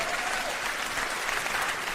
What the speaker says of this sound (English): you see how they clapping?